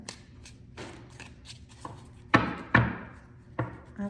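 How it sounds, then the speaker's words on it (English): Tarot cards being shuffled by hand, soft riffling and papery slaps, with a few sharper thumps near the middle; close and fairly quiet. "A couple more shuffles here."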